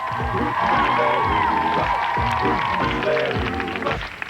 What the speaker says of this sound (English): Give him a nice big round of applause, if you would, please.